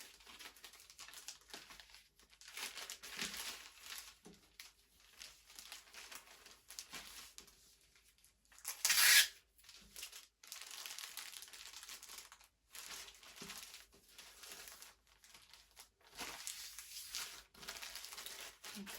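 Crinkly plastic packaging bag being folded while packing an Etsy order, with soft intermittent crinkling and rustling throughout and one sharper, louder crackle partway through, close by and without talk.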